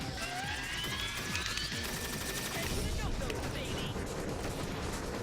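Dense, continuous gunfire and explosive rumble from a GameCube preview disc game runs without a break, loud and busy, with a voice talking over it.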